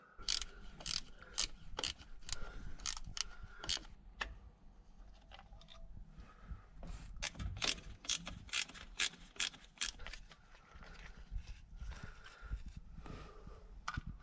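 Ratcheting tool working 7mm bolts loose on the diff lock of a VW T3 Syncro, with rapid ratchet clicks in bursts and metallic handling noises, close up.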